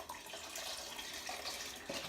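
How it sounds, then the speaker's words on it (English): Water pouring into a pot of beans for Hoppin' John chili, a continuous close rushing stream with small splashes, steady throughout. "we're going to add in another 32 ounces of water here to let these beans cook"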